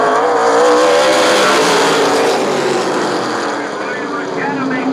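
A pack of super late model race cars roars on a green flag restart at night on an oval at Laird Raceway, a loud dense engine wash sweeping past under excited commentary.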